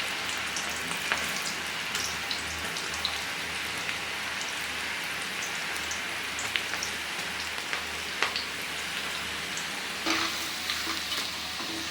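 Onion pakoda deep-frying in hot oil over a medium flame, producing a steady, dense sizzle and bubbling with scattered crackles and pops, close and continuous, with no talk.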